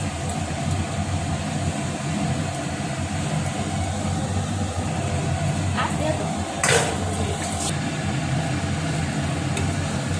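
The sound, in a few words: palm fritters (taler bora) frying in white oil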